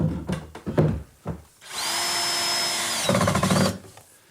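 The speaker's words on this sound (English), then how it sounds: "attached to the adjacent one with some screws" A power drill drives screws to fasten a flanking cabinet to the one beside it: a steady, fairly loud whine of a second or so, with clunks and handling knocks before and after.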